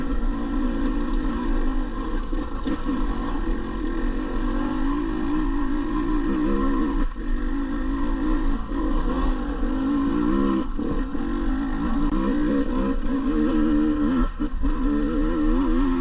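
A 2022 KTM 150 TPI dirt bike engine drones continuously at close range, steady revs with small surges and dips as it rides over rough off-road ground, no voices.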